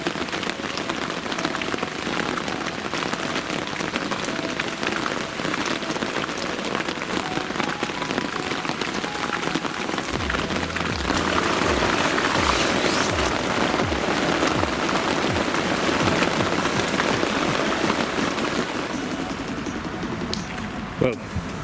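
Rain falling at a carp fishing swim, a dense patter of drops on a nearby surface that grows heavier and louder midway, continuing steadily throughout.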